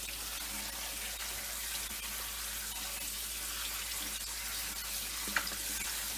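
Running water pours steadily over salted vegetables in a colander at a sink while they are washed for atchara, a continuous hissing splash with only a brief clink of handling.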